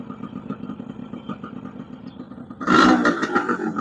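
Yamaha RX100 two-stroke motorcycle engine idling with a steady low putter, then jumping into a loud, crackling rev near the end, close to the microphone.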